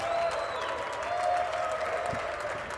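An audience applauds Donald Trump at a bell-ringing ceremony, a steady wash of crowd clapping held at an even level throughout.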